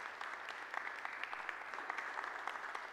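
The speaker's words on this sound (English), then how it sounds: "Shall we give a clap to the King of Kings and the Lord of Lords?" A church congregation claps together in a steady, dense burst of applause lasting about three seconds, heard from a moderate distance with a faint, even texture.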